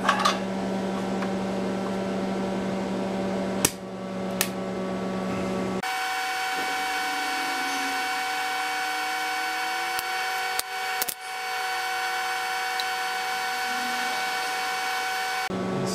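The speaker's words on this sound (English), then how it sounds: "This is my Lincoln stick welder and I'm going to set it to 75 amps and kick it on." A Lincoln stick welder set to 75 amps hums steadily while heating a frozen, broken exhaust stud on a motorcycle, with a constant electrical drone, a few sharp clicks and a gliding tone partway through.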